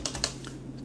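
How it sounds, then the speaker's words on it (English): Quick clicking keystrokes on a computer keyboard as a cash figure is entered at a laundrette in GTA V roleplay, a handful of light taps over under a second with a steady background hum. "So let me just type that in there."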